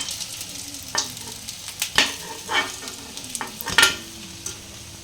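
Capsicum chops deep frying in oil until reddened, a soft bubbling sizzle broken by several sharp scraping and clinking stirs of a utensil against the pan, close by, no voices.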